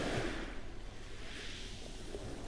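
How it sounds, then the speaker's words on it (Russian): Sea waves and surf on a quiet shore, a soft continuous wash with a faint low rumble and some wind, heard alone without voices. "дам насладиться вам шумом моря."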